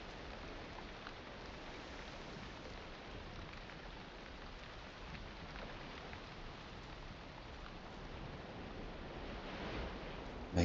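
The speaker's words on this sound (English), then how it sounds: "Maybe it's just the rain." Steady rainfall in the video game Valheim, a dense even hiss that holds at a constant level throughout, with a brief louder knock at the very end.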